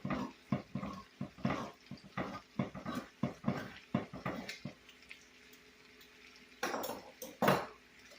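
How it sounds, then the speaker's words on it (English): A can of butter beans being opened and tipped into a cooking pan, a series of close metallic clicks, scrapes and clanks in an irregular rhythm, then a louder clatter and slosh near the end. "Now I'm going to open my beans and get them in the pan."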